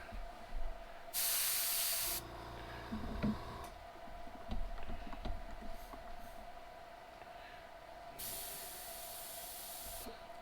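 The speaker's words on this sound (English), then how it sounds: "And then we spray her." Two short bursts of aerosol paint spray hiss close by onto a fishing lure, separated by quiet handling clicks and taps.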